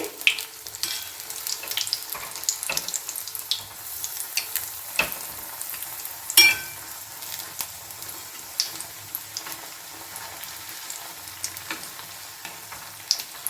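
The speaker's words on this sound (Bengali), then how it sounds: "সিমের স্লাইস নিয়ে নিয়েছি আর এই আমাদের ব্যাটার এইভাবে উল্টে পাল্টে সুন্দর করে চুবিয়ে এক্সট্রা ব্যাটারটা ঝরিয়ে নিয়ে কিন্তু আবার তেলেতে দিয়ে দিলাম" Batter-coated flat bean slices deep fry in hot oil, giving a soft, continuous sizzle broken by scattered crackles and pops, with one sharper burst midway; fairly quiet and close, with no voices.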